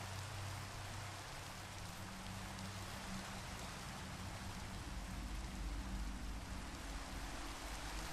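Steady video game rain falls without pause, a soft, even hiss of drops spread evenly throughout.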